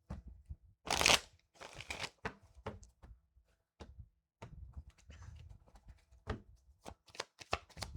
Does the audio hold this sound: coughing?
no